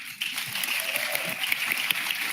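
Applause from an audience at a gathering of UAW workers in Michigan, a steady moderate clatter of many hands lasting a couple of seconds with no voices over it.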